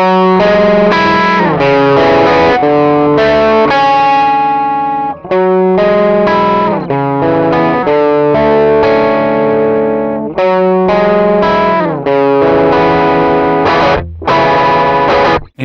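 Distorted electric guitar plays a lively run of lead notes and phrases, loud and dry with short gaps between bursts.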